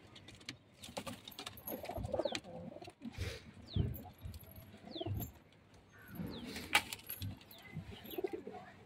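Pigeons coo softly in low, repeated murmurs, with faint rustling and occasional chirps nearby, no voices.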